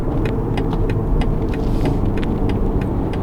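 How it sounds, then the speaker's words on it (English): A 2020 BMW M340i with a 380-horsepower engine accelerates and shifts through its gears, a loud, close, steady engine roar with brief regular breaks in the sound. "And the engine sounds wonderful, shifting through the gears."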